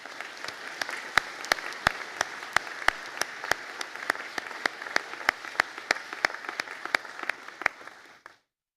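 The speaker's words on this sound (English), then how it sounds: "So can I ask all the graduates from the Higher Diploma in Medical Technology, Regulatory Affairs and Quality to be upstanding for a round of applause." Audience at a university conferring ceremony gives a round of applause, an even wash of clapping from a seated crowd with individual sharp claps standing out, steady until a sudden cutoff.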